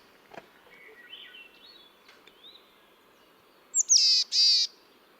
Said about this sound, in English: call, but it's slower and buzzier and sort of more nasal than the black-capped chickadees.